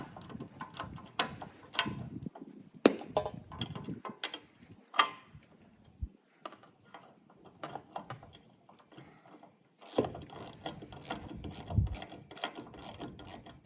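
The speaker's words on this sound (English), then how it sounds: "Now we'll get going with tightening up the inside." A hand wrench ratchets on bolts while a Ford Bronco accessory is fitted, producing quiet bursts of rapid clicking separated by short pauses, close and soft with no voices.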